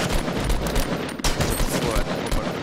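Rapid Fortnite gunfire rattles through a match at Snobby Shores, dense bursts of shots running almost without pause across the clip, loud and close.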